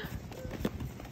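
A young filly's hooves clop on the ground in a few quick, uneven beats at close range, with faint background noise around them.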